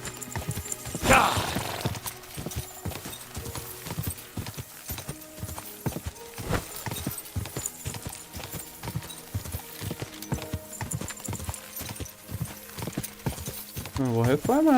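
A horse gallops in Kingdom Come Deliverance 2, steady rapid hoofbeats running throughout at close range, with a neigh early on and someone talking over the galloping.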